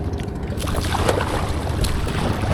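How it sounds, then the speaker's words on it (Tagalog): Steady rushing water and wind noise, continuous and fairly loud, with occasional splashes of strong sea waves against a small kayak. "Ang lakas ng alon guys."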